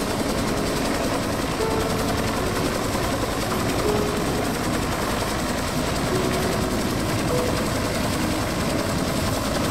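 A firefighting aircraft flies over the Cape Town wildfires, its engine a loud, steady, continuous drone that holds at the same level throughout, with no voices.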